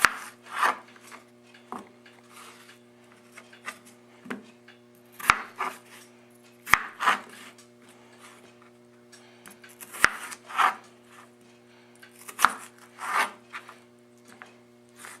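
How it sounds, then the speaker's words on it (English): A knife cubes peeled potatoes on a wooden board, irregular thuds and scraping slices spaced a second or two apart, close and clear. "Now that we've got our 2 potatoes peeled, I'm just going to cube them"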